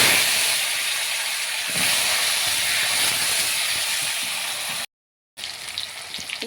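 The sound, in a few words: whole cumin, dried chili and bay leaf frying in fish oil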